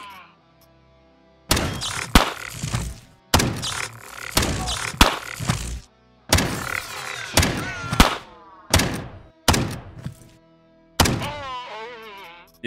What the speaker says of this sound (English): You didn't realize they want to throw grenades at me.